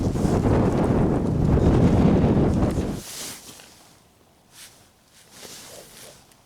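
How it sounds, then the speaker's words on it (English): Wind on the fell at Wansfell Pike in the Lake District, a loud roaring buffet against the microphone that drops away after a few seconds, leaving quieter gusty rustles and brief swells. "The wind."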